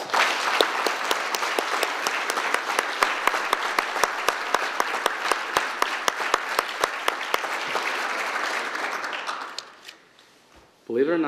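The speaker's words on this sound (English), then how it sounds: "Let's give a round of applause to all award recipients" Applause at a police department awards ceremony, with crisp individual claps standing out over a steady crowd, fading near the end before a voice begins to speak.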